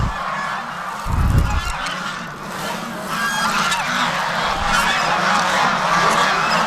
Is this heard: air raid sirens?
no